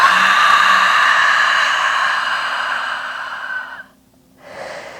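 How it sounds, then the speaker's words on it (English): A deep breath drawn in and let out through the mouth during a yin yoga practice, a long, loud airy exhale that fades, a short pause of silence, then another softer breath at the end. "Take a deep inhale with me and exhale out of the mouth."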